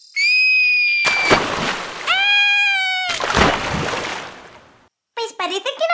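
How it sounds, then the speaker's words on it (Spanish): A Barbie doll shoots down a toy pool slide into water, making bursts of splashy noise that alternate with bright, sustained electronic-sounding tones, while high-pitched voices chatter toward the end. "Tienes que lanzarte súper fuerte por el tobogán para salpicarlas con agua."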